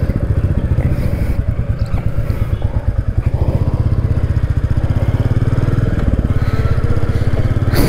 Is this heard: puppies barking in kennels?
no